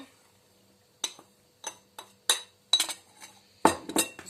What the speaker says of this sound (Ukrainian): Знову все розмішую.